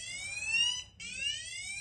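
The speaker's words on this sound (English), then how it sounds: "any barrier near the IR sensor, it will activate the alarm" Portable security alarm set off by an IR sensor: two loud electronic tone sweeps, each a harmonic-rich whine gliding slightly upward, separated by a brief gap.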